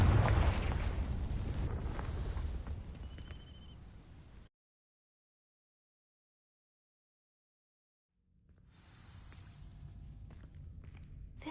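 A Confringo fire spell in Hogwarts Legacy sets dry vines ablaze with a loud, whooshing burst and roar that fades out into silence, followed by a quieter rumble of flames and game ambience.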